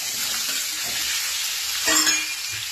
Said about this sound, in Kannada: ಹಾಕಿ ಚೆನ್ನಾಗಿ ಫ್ರೈ ಮಾಡ್ಕೋಬೇಕು.